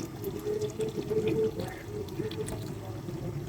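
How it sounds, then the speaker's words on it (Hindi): Whole milk is poured into a pot of boiling tea, a continuous liquid splashing and gurgling over bubbling, moderately quiet and close, with no talking. "तो अभी हम इसमें ऐड करेंगे दूध।"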